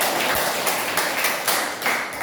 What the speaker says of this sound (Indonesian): Ya, boleh tepuk tangannya sekali lagi.